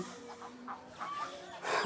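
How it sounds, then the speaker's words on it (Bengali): Newly hatched ducklings, only a few days old, give faint, high peeps that come in short scattered bursts over a quiet background. "আজকের ভিডিওতে দেখাবো আমার হাঁসের বাচ্চা ফুটার প্রথম বাচ্চাগুলাকে"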